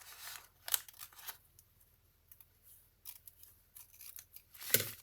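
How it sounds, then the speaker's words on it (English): Scissors cutting out a paper pattern for a flared skirt: a few quiet, close snips and paper rustles with pauses between them, no speech. "Just going to totally cut it out without any seam allowances on it for now."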